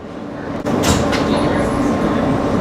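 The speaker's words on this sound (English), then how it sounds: "This is a Manhattan-bound Q train via the R line." NYC subway R160B Siemens Q train running between stations, a loud steady rumble of the railcar with a brief jolt near the start, no talk.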